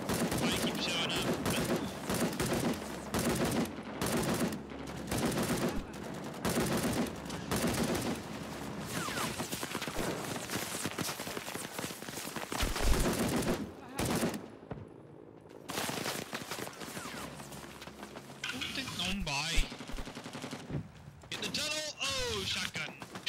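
Shotgun blasts and other gunfire crack in a video game firefight: dense, repeated loud shots in bursts throughout, with players talking over the action.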